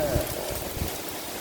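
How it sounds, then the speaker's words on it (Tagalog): Heavy rain driven by strong wind roars against a window in Singapore as a thick, constant wash of noise, with a person's voice briefly heard over it. "Oh, lakas ng ulan dito."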